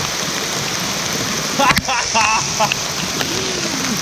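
Heavy rain drums on a camping tarp in a steady, dense hiss, with a few brief voice-like sounds rising over it near the middle.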